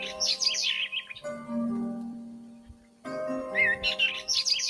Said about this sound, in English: I see a red bird looking at me.